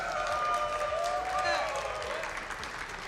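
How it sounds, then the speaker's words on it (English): Crowd applause and cheering at the VAIL grand finals of an esports LAN event in Amsterdam, a steady wash of clapping under a noisy hall with tonal game or music sounds layered on top. "See some good old crowd support there."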